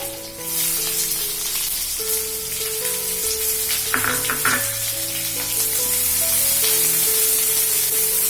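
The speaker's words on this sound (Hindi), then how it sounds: "गैस को सिम कर दीजिए, प्याज डाल दीजिए।" Onions hit hot oil in a pan over a low flame and start frying at once, a close, steady sizzle that swells slightly toward the end, with a brief stirring clatter midway and soft background music.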